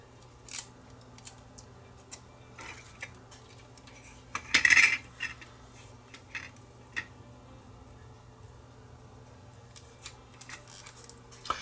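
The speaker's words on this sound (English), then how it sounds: "We'll stick it on the back side of the tape and tape it onto the leader." Splicing tape pressed onto the back of a VHS tape leader while fixing a Sony SLVN55 VCR: faint scattered tapping and handling noises, with one louder brief crinkling burst near the middle, otherwise quiet, no talking.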